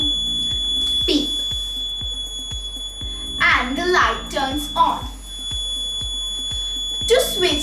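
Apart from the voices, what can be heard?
water tank level alarm buzzer beeping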